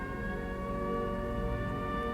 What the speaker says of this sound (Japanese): 突然鳴り出した正午を告げるサイレンに驚きとしばし郷愁を感じました。